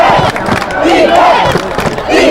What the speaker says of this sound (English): Now the Peru sidelines yells defense.